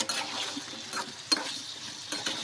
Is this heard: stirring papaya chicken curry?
yes